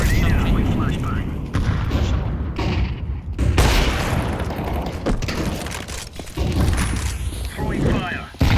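Grenade and flashbang explosions in a tactical shooter video game, loud booming blasts and gunfire-like cracks filling the scene continuously, with players talking over the action.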